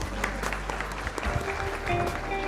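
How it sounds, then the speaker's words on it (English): An audience claps steadily at a primary school annual day, a dense patter of many hands at moderate distance, holding even throughout. "Let's celebrate these remarkable achievements with a big and enthusiastic round of applause"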